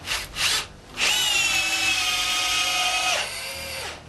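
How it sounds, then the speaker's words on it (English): A Bosch 12V cordless drill at high speed drives a 6x110 coarse wood screw into wood, whining loudly and steadily for about two seconds after short bursts, then dropping in pitch as the screw seats. "I've chosen a 6x110 coarse wood screw. I'm only going to run the drills in high speed"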